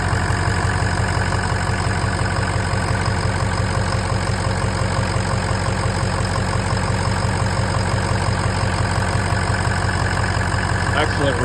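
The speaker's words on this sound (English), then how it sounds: "Boy, does this truck make some crazy noises." A 2003 Ford F250 Super Duty with the 6.0L diesel idles loud and close under the hood, a steady rapid clatter with a deep continuous drone that never changes pace.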